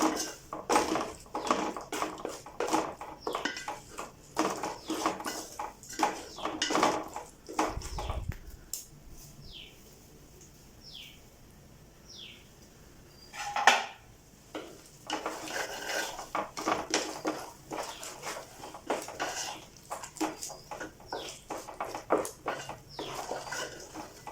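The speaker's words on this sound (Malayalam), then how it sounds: "അടിയിൽ പിടിക്കാതെ ഇളക്കി ഇളക്കി തോർത്തിയെടുക്കണം." A spatula scrapes and clinks against a pan while scrambled egg is stirred for egg rice, with repeated rapid metallic scraping in bursts, a brief quiet pause partway through, then more busy stirring close by.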